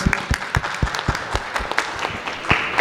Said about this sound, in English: Great round of applause for all of these doctors.